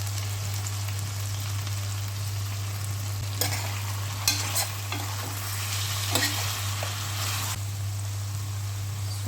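Crushed ginger and garlic sizzle and are stirred in a pan, a steady crackling hiss with several sharper scraping stir strokes, close by with a low hum underneath.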